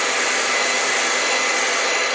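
A hair dryer blasting air to dry wet paint on a landscape painting, a loud, steady whooshing hiss held constant throughout.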